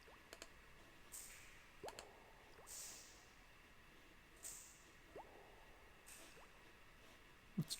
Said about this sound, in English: What's dripping?